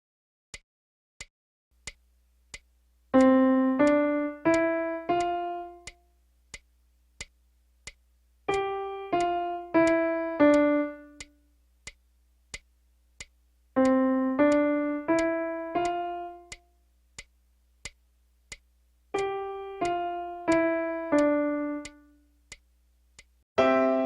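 A piano plays a simple rhythm drill: groups of four clear notes, each group followed by a silent whole-beat rest, repeated four times over a steady ticking pulse.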